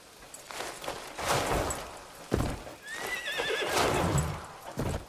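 A horse in Crimson Desert gives a loud, wavering whinny mid-clip, set against close hoof clatter and thuds from movement and landing.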